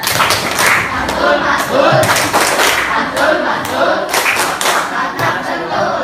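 Rhythmic group clapping chant called 'tepuk mantul' at a student competition gathering, loud patterned claps and thumps from many people in unison, with voices calling along.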